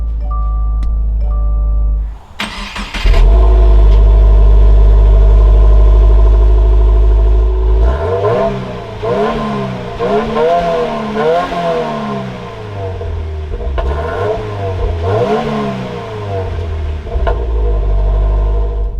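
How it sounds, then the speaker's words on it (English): A 2024 Subaru WRX TR engine cranks and fires up with a loud burst, settles into a high idle, then revs several times in rising and falling sweeps, close and clear. "keeping my foot on the clutch, we can go ahead and fire it up"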